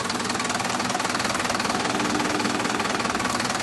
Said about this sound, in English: the engine is running now, and it is running on vegetable oil